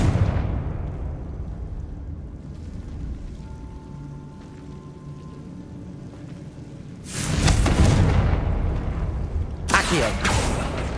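Confringo spell explosions in Hogwarts Legacy, a fading blast rumble at the start, a quieter humming lull, then a loud fiery burst with crackling debris and another sharp blast near the end.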